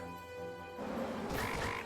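A frog monster in the Dragon Quest 3 Remake video game lets out a short, loud, raspy croak that swells after a brief stretch of tonal game background.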